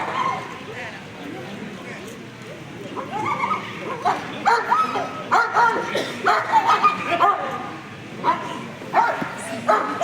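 A dog yips and barks in rapid short bursts during an outdoor scent-tracking demonstration with handkerchiefs, the barks close and loud against a background of people talking.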